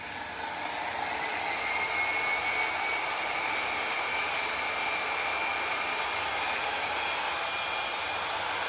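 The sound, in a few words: dual action polisher running at low speed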